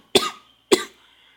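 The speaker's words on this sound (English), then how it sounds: "And hopefully I get over this cough." A man coughs twice, close and loud, each a sharp burst with a short raspy tail and a pause between, with silence around them.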